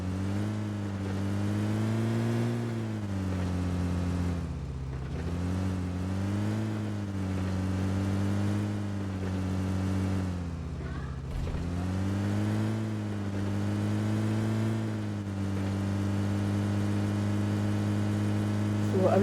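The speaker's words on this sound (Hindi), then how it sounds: "बस यहाँ पे हम जब गाड़ी में बैठे और हम बस घूमते रहे यहाँ पे।" A car is driven in the video game PUBG, its engine droning steadily and rising and falling in pitch as it revs and eases off over a long stretch.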